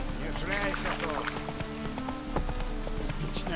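Rain patters steadily in The Witcher 3 while Roach's hooves clop underneath and someone talks over it.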